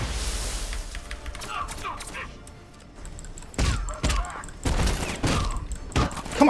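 Gunfire in the Batman Arkham Knight video game, bursts of loud close shots and impacts clustering in the second half, mixed with game sounds and voices.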